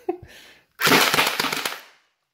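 A whole magazine emptied from an HK MP7 gel blaster in one rapid burst, a dense crackling stream of shots lasting over a second after a brief softer sound, close and loud.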